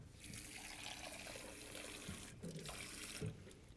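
Tepid water poured into a sourdough starter in a kitchen, a soft steady splashing stream running for a few seconds, faint and close, with a slight gurgle as it fills.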